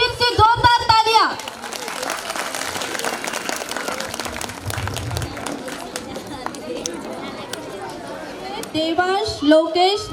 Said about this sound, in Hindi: तो एक बार फिर से जोरदार तालियां